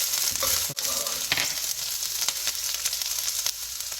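Chicken sizzling in a pan with red chili flakes, a steady bright frying hiss that runs throughout, with a brief clatter near the start and no talking.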